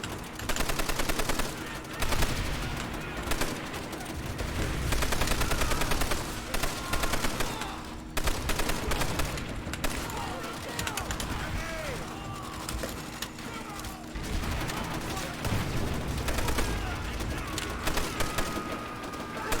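In the Call of Duty: World at War game, dense bursts of rapid gunfire and heavy blasts crackle almost without pause, loud and close, while a player talks over the battle.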